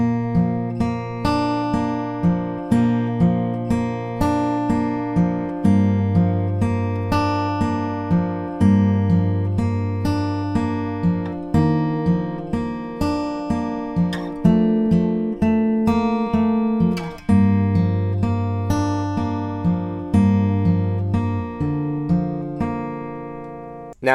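Acoustic guitar fingerpicks verse 2 of a song in a steady, close, continuous pattern of plucked notes over ringing bass, played alone without voices.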